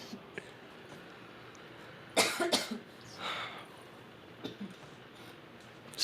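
Coughs break out during a live forex trading stream at the New York market open: a few short, dry bouts spaced apart, fairly near, over a low steady room hum.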